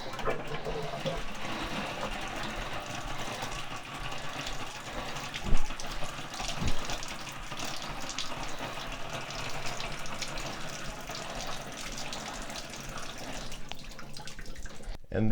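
Water rushes steadily through the plumbing of a Bosch tankless on-demand off-grid water heater as it is bled after the water main is reopened, a continuous close hiss with a few brief knocks midway.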